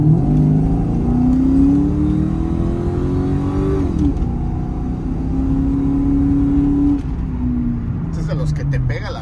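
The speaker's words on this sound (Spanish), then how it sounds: "Este auto, pues, es un V8 modular y vean la aceleración que tiene." A 2002 Ford Mustang GT with a modular V8 accelerates hard, heard from inside the car. The loud engine drone climbs steadily in pitch through the gears, with voices talking over it.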